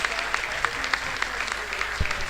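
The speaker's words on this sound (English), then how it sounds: "Neil Baker just getting a round of applause for his words there" Applause from a crowd at a Slough Town versus Royston Town football awards gathering, a steady patter of many hands clapping with scattered louder claps, mid-distance and continuous for the whole stretch.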